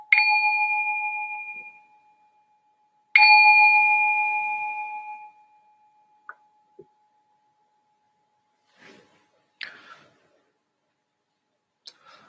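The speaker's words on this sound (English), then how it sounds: "I'm going to ring this bell to signal the start of the meditation." A meditation bell struck twice to open a session, each ring a clear bright tone that decays slowly over a couple of seconds, followed by a few faint small taps and knocks in near silence.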